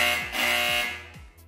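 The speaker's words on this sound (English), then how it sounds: "this is what sounds the buzzer" A loud, harsh electronic scoreboard buzzer blares steadily for over a second with a gritty, raspy tone, then cuts off abruptly.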